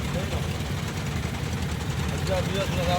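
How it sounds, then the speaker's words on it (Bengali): Boat engines drone together as several boats travel in convoy on the water near Bholaganj, a steady low rumble throughout with voices talking over it. "সব কটা নৌকা একসাথে চলছে।"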